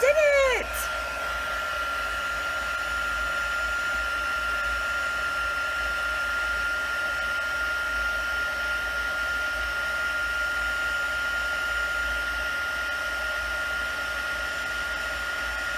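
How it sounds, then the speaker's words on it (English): An embossing heat tool blows a steady, loud whirring rush of air with a faint high whine as it melts embossing powder on a papercraft tea bag box, starting with a brief spin-up. "now we will heat this up and melt all this embossing powder"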